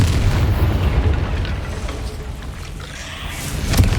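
The Confringo explosion spell in the video game Hogwarts Legacy lands as a deep, booming blast whose rumble fades over a few seconds, with a second muffled boom near the end and no speech.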